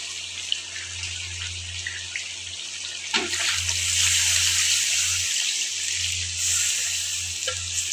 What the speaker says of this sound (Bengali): আমি পানি দিয়ে দিব।